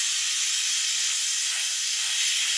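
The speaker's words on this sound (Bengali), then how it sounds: "মাছটা ভাজতে রেখে দিয়েছি" Fish frying in a pan of oil gives a steady, loud, bright hiss that holds unbroken from start to finish, with no voices over it.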